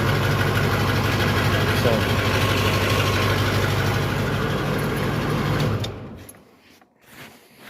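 An LB7 Duramax diesel engine idles on one battery with no glow plugs, a loud steady low rumble for about six seconds that then drops away into quieter clanks, with a brief voice.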